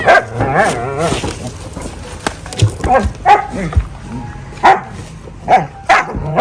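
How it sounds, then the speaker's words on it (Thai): A dog, apparently a puppy, gives several short yips and barks spread through the clip, fairly close, with someone talking and cooing around them. "ไปเรียนเขาเห่าเหรอ"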